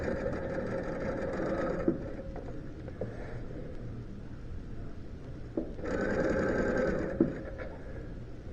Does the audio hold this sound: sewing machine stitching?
yes